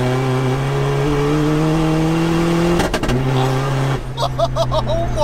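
A nitrous-fed 600bhp 1.9 TDI diesel Seat Ibiza pulls hard, its engine note climbing steadily in pitch, then dropping at a gear change before surging again, loud and close from inside the car.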